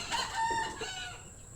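Black chickens of the Darag breed with their chicks calling, a short burst of clucking and crowing-like cries at moderate distance that fades quickly, no speech.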